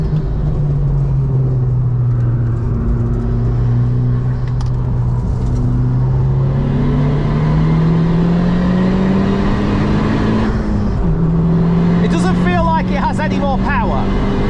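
Honda Civic Type R FK2 engine pulls hard in Type R mode, its loud droning note climbing steadily in pitch with a brief shift-like dip near the end, while people talk over it inside the car.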